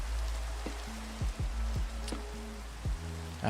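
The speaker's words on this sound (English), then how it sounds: "We left Donkey out in the rain." Steady rain falls in a Minecraft world, an even hiss with scattered drip-like ticks, heard alone without voices.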